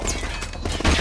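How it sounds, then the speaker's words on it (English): A flashbang grenade goes off in Modern Warfare Remastered: one short, loud, broadband bang that fills the second, with no clear voices over it. "flashbang out."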